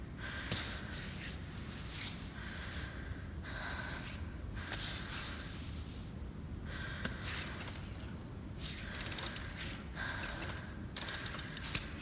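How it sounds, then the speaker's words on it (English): Heavy, rhythmic breathing in the video game Cairn comes in repeated harsh gasping bursts, close and fairly quiet, mixed with faint mechanical clicks and no speech. "Heavy breathing intensifies."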